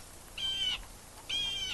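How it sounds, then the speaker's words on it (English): A jay gives two harsh, raspy calls about a second apart, moderately near against a faint outdoor background. "That's a jay."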